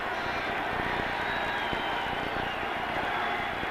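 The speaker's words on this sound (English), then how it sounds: "Now the crowd comes alive at Candlestick." A football crowd at Candlestick stadium during a 1988 Falcons vs. 49ers game roars steadily in a dense, continuous wall of cheering and noise throughout, far off and unbroken.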